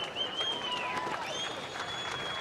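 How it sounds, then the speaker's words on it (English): Audience applause at a DanceRites dance competition final, a steady wash of clapping from a crowd that runs through the moment, fairly quiet and distant, with a faint ringing tone drifting above it. "Yeah, big clap for that."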